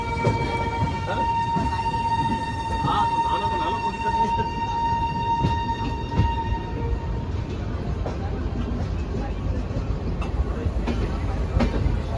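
The Kerala Express on its New Delhi to Kerala run makes a steady, loud rolling rumble, with a thin tone hanging over it for a while. Indistinct voices murmur faintly within the noise.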